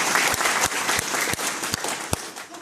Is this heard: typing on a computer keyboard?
no